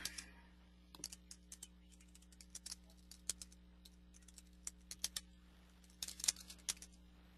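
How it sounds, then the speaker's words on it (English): Light, irregular keystrokes tap on a computer keyboard in short bursts, quiet and close in a still room, with no voices. "So now I can come in and just do my typing."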